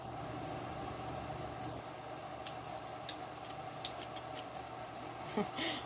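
Crisp scissor snips, several short cuts at an irregular pace, close by over a steady low background hum.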